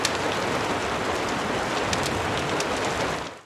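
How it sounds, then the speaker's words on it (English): Steady rain falling outside a cozy cabin at night, a dense, even hiss of drops on surfaces with a few brighter patters, continuous and fairly loud before fading out at the end. "It's cozy cabin ambiance, rain and fireplace sounds at night"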